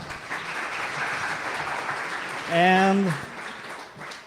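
A live developer-event audience applauds with a steady wash of clapping for a couple of seconds before a voice begins speaking.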